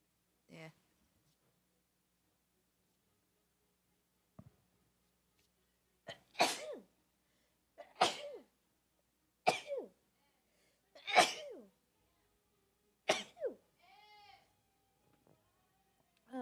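A sneezing fit from a person: five sharp, loud sneezes in fairly quick succession, each a brief explosive burst, followed by a faint breathy sound and short mutters alone in a quiet room.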